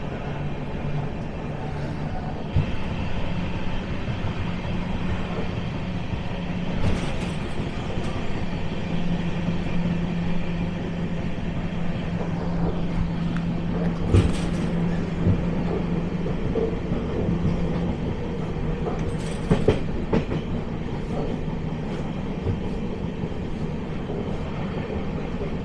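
Shivganga Express train running steadily while overtaking the Sampark Kranti, a continuous close rumble of wheels and carriage with occasional clanks and brief louder bursts, no talk.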